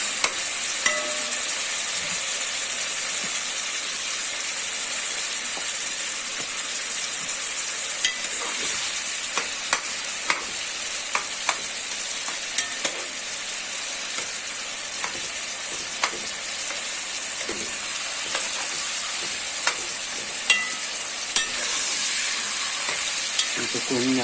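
Meat browning in a hot pan for plov gives a steady, close sizzle that runs throughout, broken by occasional sharp clicks and scrapes of stirring, with no voices.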